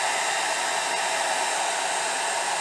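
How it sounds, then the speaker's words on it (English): A handheld hair dryer blows on a wig with a steady, loud, even airflow hiss that holds unchanged from start to finish. "I'm just showing you with my hairdryer, because pretty much everybody has a hairdryer and some water."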